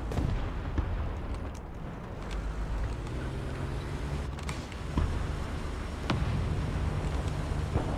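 A tank cannon fires in War Thunder Ground Realistic Battles from an EBR 1951 armored car, with sharp booms standing out over constant loud engine rumble and distant battle noise.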